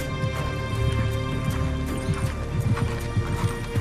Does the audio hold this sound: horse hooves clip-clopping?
yes